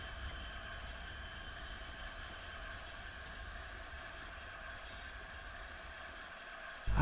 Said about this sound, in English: Sylvester and Scotsman had just pulled into Manchester with an extra long Silver Rose